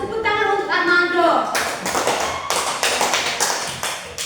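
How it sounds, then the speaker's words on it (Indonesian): Pupils in a classroom clap for a classmate, a burst of rhythmic close hand claps starting after a teacher's short spoken line, continuing as a brisk, slightly uneven patter to the end. "Tepuk tangan untuk Armando."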